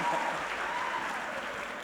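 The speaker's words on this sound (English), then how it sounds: "Can we hear a round of applause?" An audience at a closing ceremony applauds in a steady, moderately loud wash of clapping that fades slightly toward the end.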